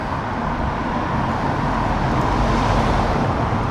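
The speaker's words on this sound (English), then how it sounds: "Sorry about the traffic" Steady broadband road rumble and tire roar fill the cabin of a car in early-morning autobahn traffic, continuous and even with no talk.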